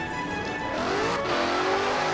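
A car engine in Forza Horizon 4 drones and revs steadily as the vehicle drives, a continuous close motor tone with rising pitch and a brief tire-squeal edge, no talk.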